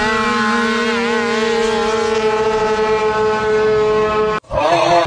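Stage6 R/T 208cc two-cylinder scooter dragster engine running loud and steady on its own, a high tonal whine holding nearly constant pitch before cutting out abruptly near the end, then briefly resuming.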